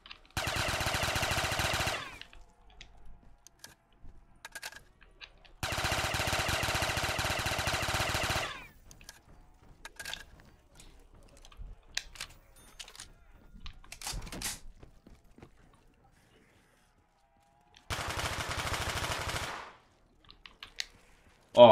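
Gunfire in Black Ops 3 zombies, in several sustained bursts of rapid automatic shooting separated by quieter stretches with scattered clicks and faint sounds.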